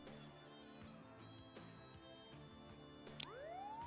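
A police car siren in the Contraband Police video game switches on near the end, a rising electronic wail sweeping upward over a steady low engine hum.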